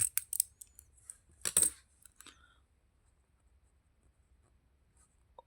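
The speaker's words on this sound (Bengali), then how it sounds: "এরপর অঙ্কনের বিবরণ লিখব।" A pen scratches out a geometry construction on paper in short bursts of writing during the first two seconds, with a few faint taps after that, then near silence.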